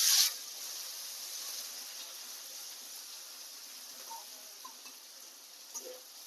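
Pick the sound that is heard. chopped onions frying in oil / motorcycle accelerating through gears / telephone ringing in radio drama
chopped onions frying in oil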